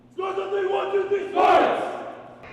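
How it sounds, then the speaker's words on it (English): A group of students shouts a team cheer together, loud and close. A single held chant rises at the start, and a burst of excited yelling follows before the voices fade. "Now take us out with a cheer."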